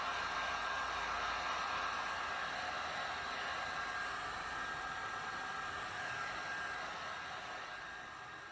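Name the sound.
heat gun heating old double-sided spoiler tape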